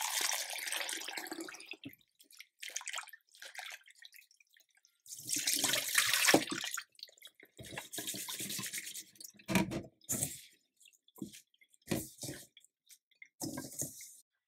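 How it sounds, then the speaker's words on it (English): Tap water running and splashing over freshly picked herb leaves being rinsed in a sink, coming in intermittent bursts with drips and soft squishing between them, close and fairly quiet. "we wash our leaves"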